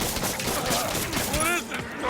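Rapid gunfire bursts in the video game Marvel's Spider-Man, a dense continuous volley of shots with game sounds and a voice briefly mixed in.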